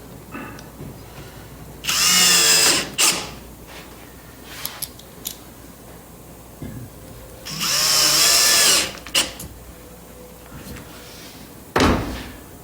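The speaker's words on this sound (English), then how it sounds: "Screw it in place." A power drill drives screws while a slider motor is installed, giving two loud sustained whirring bursts of about a second each, separated by quieter handling clunks, with a short sharp burst near the end.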